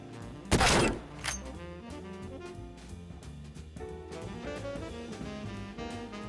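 One loud, sharp shot from a Mosin 7.62x54 bolt-action rifle in Escape from Tarkov, followed by a fainter second report and a metallic clack, over a low steady game-music bed.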